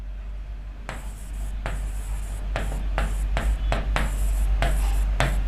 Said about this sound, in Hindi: दोबारा लिख देती हूं।